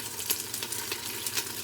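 Onions and a piece of ginger browning in a pan for chicken pho make a steady, close sizzle with a few soft crackling pops.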